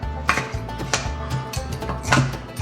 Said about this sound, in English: Let's go ahead and give this a quick stir